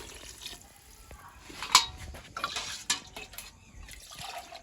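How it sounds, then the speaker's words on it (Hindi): Water is poured into a cooking pot for chicken biryani, with soft splashing, a few clinks of metal cookware and a louder clatter near the middle, all fairly quiet in a home kitchen. "मैं इसमें पानी मिक्स करने लगी हूँ"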